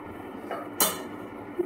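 A lid is set onto a cooking pot of boiling food, a single short metallic clink close up against a soft background hiss, followed by a faint tap.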